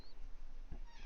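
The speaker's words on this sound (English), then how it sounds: "That's my cat Monty saying hi." A pet cat named Monty meows softly once, a short faint call set against quiet room noise.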